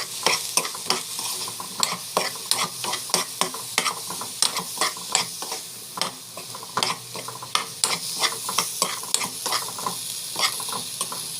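Raw banana pieces coated in chili powder sizzle steadily in a pan, with frequent scraping stirs from a spatula sounding close and busy throughout, no voices over the frying.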